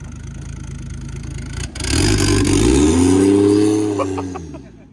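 Turbocharged Lexus IS300 with a CT20 turbo on its first drive, engine idling then revving up loudly with rising and falling pitch and some clatter, close by.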